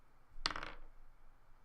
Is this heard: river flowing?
no